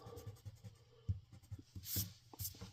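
A pen inks a drawing on paper, giving soft scratchy strokes in an uneven rhythm, with a few louder swishes near the end, close and alone without talk.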